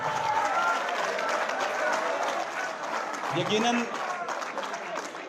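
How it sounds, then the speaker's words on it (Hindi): Audience applause at a poetry mushaira held at a university law college, a steady, dense clapping wash that fills the whole stretch, with a voice briefly rising over it partway through. "अगर मजा आ रहा है तो एक बार फिर जोरदार तालियां बजाएं।"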